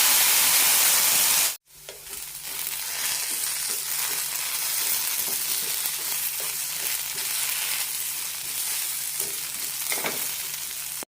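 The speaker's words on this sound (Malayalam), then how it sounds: "ചെറിയൊരു ബ്രൗൺ കളർ വരുന്നവരെ വറുത്തെടുക്കണം" Potato pieces frying in a pan until lightly browned make a steady, close sizzle with soft stirring scrapes. After a brief cut near the start, the frying continues evenly to the end.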